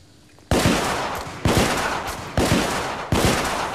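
Gunfire in the video game The Order: 1886, four heavy, booming shots spaced roughly a second apart, each with a long decaying tail, loud and close after a brief quiet start.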